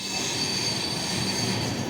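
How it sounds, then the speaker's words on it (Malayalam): A long-distance passenger train pulls into a station, its wheels squealing and grinding steadily against the rails for a couple of seconds, close and continuous with no talking. "നമ്മൾ ട്രെയിൻ ഇവിടെ എത്തിയിരിക്കുന്നു"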